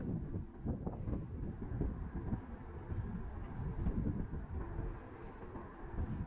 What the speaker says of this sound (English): we were impressed by a train in the distance that had 113 cars